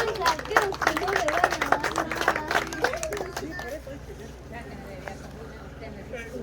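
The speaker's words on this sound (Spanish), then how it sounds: "Un aplauso para esta señora que se ha ganado ese gran premio" Audience clapping at a Mother's Day comedy show, a burst of applause for a prize winner that rises loudly at first, then thins out and fades under voices talking.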